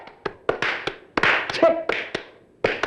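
An audience claps and taps their hands, giving about a dozen scattered, uneven sharp claps that come quickly and then settle into a loose rhythm.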